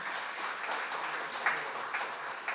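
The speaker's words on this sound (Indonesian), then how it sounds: "mari kita tepuk tangan untuk keluarga besar GKI Medan ya" A church congregation applauding during a family-themed sermon at GKI Medan, steady moderate clapping from many hands with a few sharper claps standing out, without voices.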